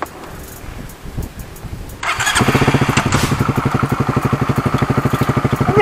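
A motorcycle engine cranks and catches, then settles into a loud, close, steady pulsing idle and throttle with a rhythmic chug as it pulls away.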